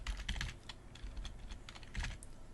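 Fingers type on a computer keyboard with quick, uneven bursts of faint, close clicks and short pauses between them, and no one speaks.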